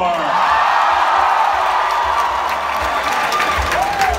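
A live theater audience at a Game Grumps Mario Party stage show erupts in loud, sustained applause and cheering, with whoops rising out of the crowd and fading slightly toward the end.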